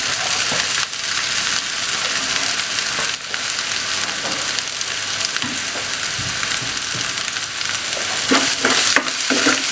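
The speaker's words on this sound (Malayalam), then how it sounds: "ഇത് നന്നായിട്ട് ജസ്റ്റ് ഒന്ന് വഴറ്റി കൊടുത്താൽ മതി." Ingredients for a tapioca (kappa) dish sauté in a hot pan, with steady sizzling and frying under repeated scraping stir strokes, close and fairly loud with no talk.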